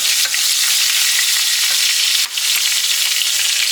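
Steak sizzling in butter in a hot pan, a steady loud crackling hiss with a brief dip midway, close up and with no voices.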